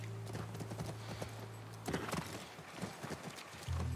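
Video game horse hooves clip-clop in a steady walking rhythm, fairly close and moderately loud, with no one speaking.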